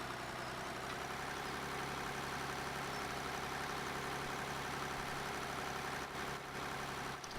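A tractor engine runs in Farm Sim 2013, a continuous even mechanical drone with a steady low rumble and hiss that stays at constant volume from start to finish.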